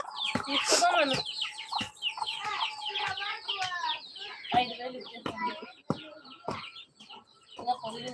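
Chickens for sale cluck and squawk in a busy chorus, overlapping with loud, excited human chatter close by.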